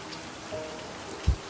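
Rain falls steadily in the Livber: Smoke and Mirrors video game, a soft constant patter with one low thump near the end and no speech.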